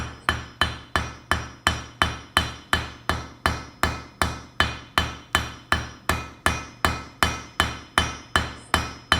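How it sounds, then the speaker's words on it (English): A blacksmith's hammer strikes hot steel on the edge of an anvil to draw out the metal, a steady run of about twenty ringing blows at an even, brisk rhythm, close and clear with no talk. "I'm using the edge of the anvil to draw out the material, since it's more effective"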